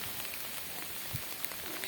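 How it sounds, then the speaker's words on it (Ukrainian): Ice pellets of freezing rain patter steadily on a hard surface, a soft continuous ticking with occasional louder taps, no voices. "Весь день був дощ, а тепер цей дощ замерз."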